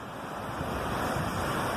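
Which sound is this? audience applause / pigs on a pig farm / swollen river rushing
swollen river rushing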